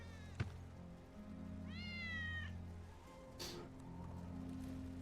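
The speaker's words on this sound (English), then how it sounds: "Hear that? It's a cat." A cat meows once, clearly, in the video game Final Fantasy VII Remake, a rising-and-falling call set against a steady low hum of ambient game sound, with a brief thump just before it.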